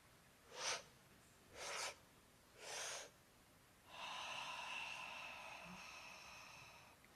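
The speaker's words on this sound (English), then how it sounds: "And we do that with 3 breaths." Three slow, deep breaths, each a soft rushing swell, taken during a guided breathing exercise at a Sunday service, followed by a long, steady exhale that hisses quietly. No one speaks.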